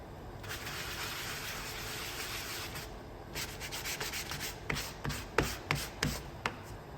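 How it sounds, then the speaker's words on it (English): Sandpaper rubbed by hand over painted wooden sign pieces, a close, steady scratchy rasp that turns into short, separate strokes toward the end, with no talking. "I'm gonna sand these pieces off just a tiny bit."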